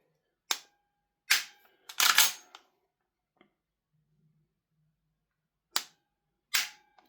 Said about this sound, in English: the trigger on these, let's have a look